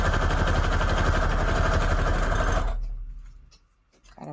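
A sewing machine runs fast and loud, stitching fabric scraps together in a steady close whir for under three seconds, then stops, leaving faint handling clicks.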